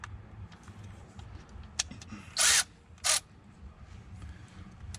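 A power drill on the bolts of a 2022 Ford Maverick gives two short, loud whirring bursts about half a second apart, with faint clicks and low background hum around them.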